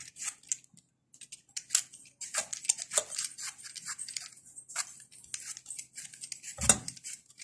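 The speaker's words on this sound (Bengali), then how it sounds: "এভাবে করে সমস্ত আমগুলি কুড়িয়ে নিব।" Unripe mangoes being shredded with a cutter machine for Bengali mango vorta, giving a steady run of close, light scraping and clicking strokes with a heavier knock near the end and no talk.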